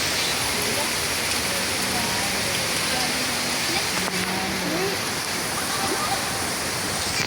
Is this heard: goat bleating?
no